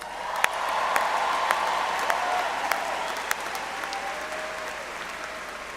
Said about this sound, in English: There'll be a lot of applauding for you throughout the rest of the afternoon here